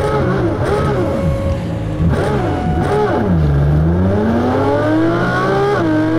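A race car engine revving hard in the Automobilista 2 racing game, rising and falling in pitch as it climbs through gears and drops back, loud and continuous throughout.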